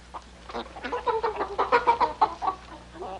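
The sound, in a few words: chickens clucking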